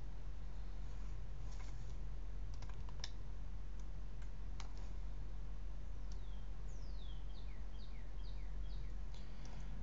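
A login ID is typed on a computer keyboard: light, scattered key clicks sit over a steady background hiss, with faint chirping higher up.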